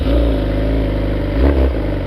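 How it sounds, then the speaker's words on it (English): A motorcycle engine runs close by with a throaty mid-pitched note and swells briefly as a little throttle is given, then settles back toward idle. "you hear the bike rev up and you give it a little bit of throttle"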